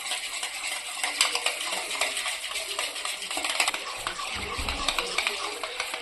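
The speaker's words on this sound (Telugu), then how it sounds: "ఈ పెరుగు అంతా ఒక 4-5 మినిట్స్ పైనే మంచిగా కలుపుకోవాలండి" Yogurt for Mysore bonda batter is whisked in a bowl with a metal spoon, giving quick repeated clinks and scrapes against the bowl in a busy, close, uneven rhythm.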